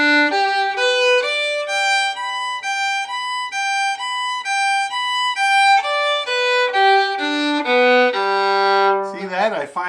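Violin playing an arpeggio that switches back and forth between G and a high B, with clear, bright sustained notes in an even rhythm and a scraping bow sound at the very end, with no talking.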